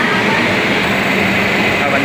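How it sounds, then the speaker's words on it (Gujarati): A Vande Bharat air-conditioned train at Chennai Central railway station, a loud steady rumble and whir of the train and station noise, with a voice talking over it. "આ વંદે ભારત ટ્રેન છે, બિલકુલ એસી ટ્રેન આવે છે"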